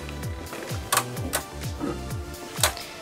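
Beyblade Burst Evolution top Fafnir spinning in a plastic stadium during a switchstrike battle, giving repeated rattling clicks and sharp clacks of collision over a low whirring hum, close and fairly quiet, no talk.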